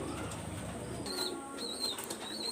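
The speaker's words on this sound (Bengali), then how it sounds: "একটা প্রিন্স কামাগার একটা নর কবুতর আমি দেখাচ্ছি আপনাদের" A male Prince Kamagar pigeon flaps its wings close by in a quiet spot, giving a short soft rustle with faint chirps in the background.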